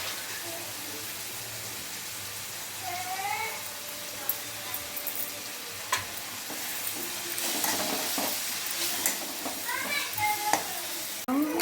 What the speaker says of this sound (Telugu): సాల్ట్ యాడ్ చేసుకున్న తర్వాత ఇట్లా బాగా ఫ్రై చేసుకోండి